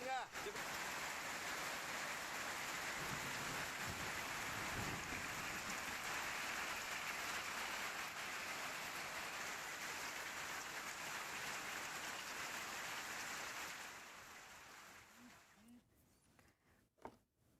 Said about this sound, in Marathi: जवळपास 2 तासांपेक्षा अधिक काळ इकडे गारपिटीसह पाऊस झाला